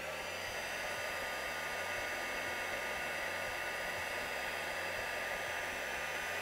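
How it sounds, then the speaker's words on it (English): A heat gun blows hot air to melt embossing powder, a steady loud whooshing roar close by that runs without pause and without talk. "let's get our heat gun out"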